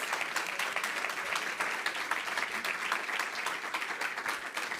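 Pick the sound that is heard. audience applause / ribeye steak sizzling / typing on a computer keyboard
audience applause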